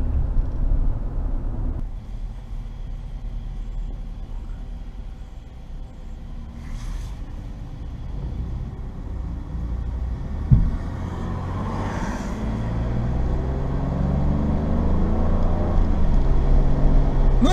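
A Ford F-150 pickup with the 2.7 EcoBoost engine drives on a wet road while towing 6,200 lbs, keeping up with traffic. It gives a steady, close rumble of engine and road noise throughout, with no voices.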